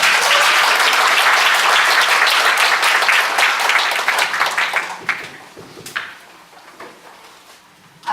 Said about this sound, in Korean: 김신혜 목사님 나오실 때 크게 환영의 박수 부탁드리겠습니다.